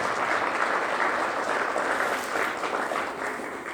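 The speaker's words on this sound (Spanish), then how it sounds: "Denle un aplauso al Señor, hermanos" A church congregation claps together during a Spanish-language Easter service, a dense, steady round of applause that fills the room and fades slightly toward the end.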